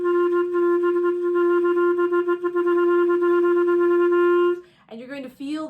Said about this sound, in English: you're going to feel the reed vibration on your tongue.